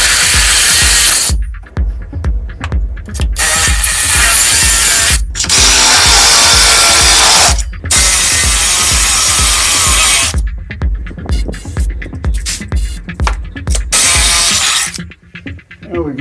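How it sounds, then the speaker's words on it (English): A power drill bores into wood while fitting a custom towing bracket for a tiny house trailer, loud bursts of high-pitched whirring broken by short pauses and restarts, steady grinding throughout. "Alright, let's get to drilling."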